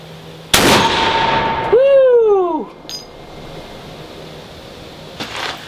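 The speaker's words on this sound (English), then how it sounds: "So let's take a shot here." A Dominion Arms DA50 .50 BMG rifle fires a single loud, sharp shot at a range, followed by a bright metallic ringing tone that slides downward and fades over about a second.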